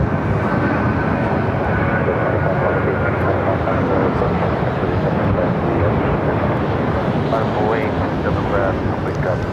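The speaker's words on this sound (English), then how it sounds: "This flight coming in from Oakland, 737-800" A Boeing 737-800 airliner on arrival from Oakland roars as a loud, steady, broadband engine rumble with wind buffeting, while a voice talks over it.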